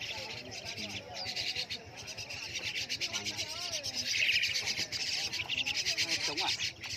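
Caged songbirds chirp and twitter continuously at a pet bird market, a dense high-pitched chorus over steady crowd murmur and background bustle, with faint voices mixed in.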